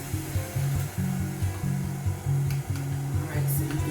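Stand mixer beating pumpkin and sweet potato puree dog treat dough, a loud steady motor whir with a rhythmic, pulsing lower drone as the beaters work the thickening dough, no talking.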